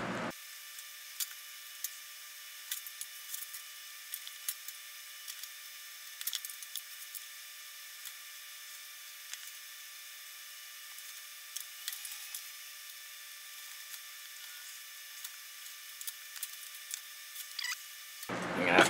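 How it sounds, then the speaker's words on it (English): Small sharp taps and scrapes of a chisel paring out fine pieces of wood, irregular clicks and splintery ticks spread across a quiet, close background, with no voices. "what I'm going to do is chisel out the fine pieces first"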